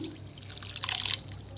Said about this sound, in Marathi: थोडंसं हलकंसं गरम पाणी करून घेतलंय त्याच्यावर ओतू या पाण्यावर ही डाळीवर पाणी